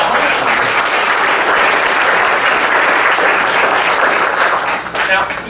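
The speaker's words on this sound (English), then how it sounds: "huge round of applause" Loud, close applause fills the room at a Creative Foundation award ceremony, a dense, unbroken roar of clapping from a large audience that eases slightly in the last half second.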